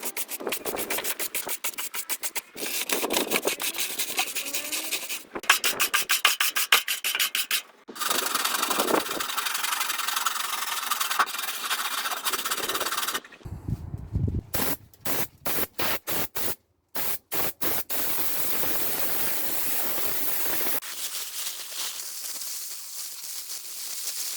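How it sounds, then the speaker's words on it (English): Soft brush scrubbing dirt from the underside of a Rover, with air blowing over it; a steady rubbing, rasping hiss in repeated bursts, broken by short pauses, close and fairly loud with no talk. "with this softer brush, it starts to remove a lot more of that dirt, and then with the air blowing over it"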